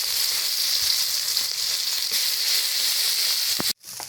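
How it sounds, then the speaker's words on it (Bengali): Onion and garlic fry in hot oil for a lentil and fish head curry, giving a loud, steady, close sizzle that cuts off abruptly near the end. "এই যে পেঁয়াজ রসুন আমি দিয়ে দিচ্ছি করে এটা ভাজা করে নিয়েছি"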